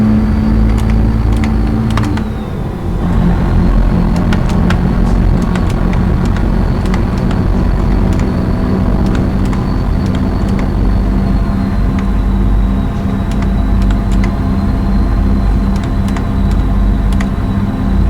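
Truck engine droning steadily while driving in American Truck Simulator, a loud continuous low hum with a faint whine above it and occasional small clicks, with no voices.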